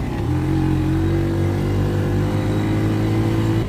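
Ford Ranger pickup truck engine revving hard during a race, a loud steady roar with rising harmonic tones throughout, close to the microphone and with no voices.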